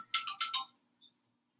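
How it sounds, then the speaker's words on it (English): Phone ringtone from an incoming call, a quick series of bright electronic chirps followed by a short faint tone, heard alone in a quiet room. "Sorry, I got a phone call there."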